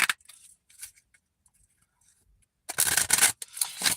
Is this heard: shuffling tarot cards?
yes